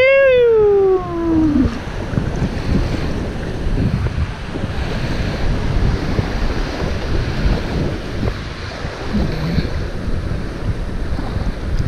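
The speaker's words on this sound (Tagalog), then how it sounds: "Lakas ng alon, no." Strong sea waves churn around a kayak on a fishing trip near a sandbar, a loud rushing wash of surf and wind buffeting the microphone, opening with a brief descending whine.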